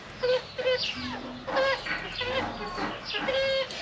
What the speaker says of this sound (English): beautiful chickens.